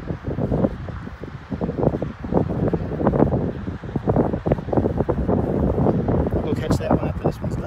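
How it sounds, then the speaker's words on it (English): Gusty wind buffeting the microphone in loud irregular bursts, with a person talking underneath. "It's a little windy out"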